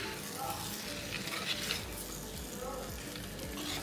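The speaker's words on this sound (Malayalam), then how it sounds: "നമുക്കിത് കുറച്ച് നേരം കൂടെ ഇങ്ങനെ വഴറ്റിക്കൊണ്ടിരിക്കാം കേട്ടോ." Egg and potato gravy sautés in a pan, with a soft continuous sizzle and occasional stirring scrapes, quiet and steady throughout.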